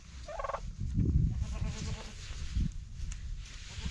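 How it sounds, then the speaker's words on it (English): Six goats in a plain winter shed are eating hay, with rustling and chewing close by and a few bleats cutting through. "The goats are eating the hay that is going to be their bed"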